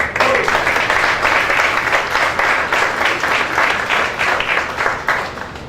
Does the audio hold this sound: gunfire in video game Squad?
no